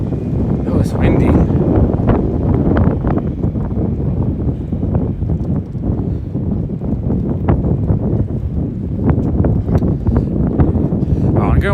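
Wind gusting on a late winter night on a New York City street, a steady loud rush buffeting close by throughout, with scattered footsteps and street noise.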